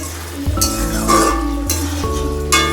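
A spoon stirs and clinks against a pan of potato and pumpkin curry, with several distinct scraping strokes, close and fairly loud, without speech.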